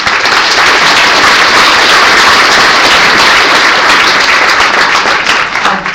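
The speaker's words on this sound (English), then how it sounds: "let's give her a big round of applause" Loud, dense applause from a conference audience at SES New York fills the room, sustained and even for the whole stretch with no break.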